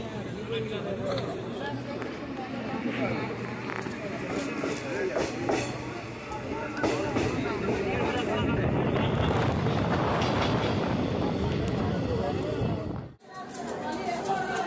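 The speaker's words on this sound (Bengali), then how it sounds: "আমাদের সামনে যাচ্ছে ট্রেন নাম্বার 12-397 গয়া থেকে নিউ দিল্লি এক্সপ্রেস।" An express train running from Gaya to New Delhi rolls past a crowded station platform on a windy day, a continuous broad rumble and rush that swells in the middle, mixed with crowd voices.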